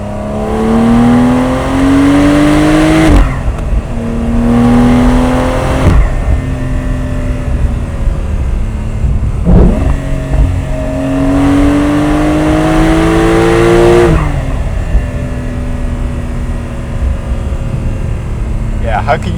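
A 2026 Porsche 911 S engine climbs through rising rev sweeps while driving, with pauses and short dips at each gear change, loud and close with a steady road rumble beneath.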